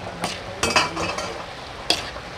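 Sautéed bitter gourd (ampalaya) seasoned with a little salt being stirred in a pan: a few scraping, clattering strokes of a utensil over a soft, continuous sizzle.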